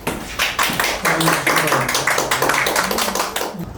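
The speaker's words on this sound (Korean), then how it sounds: "다 같이 큰 박수로" Crowd applause greeting a lecturer at a Korean colloquium lecture hall, a dense steady patter of many hands clapping throughout, close and lively, with a brief voice at the start.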